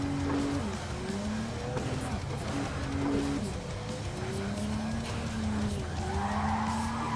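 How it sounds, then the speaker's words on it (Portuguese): Car tires skid and squeal on asphalt in Cyberpunk 2077: Phantom Liberty, a steady rubbery screech riding over a low engine drone for several seconds with wavering pitch, no talk over it. "Pneu ralando no asfalto."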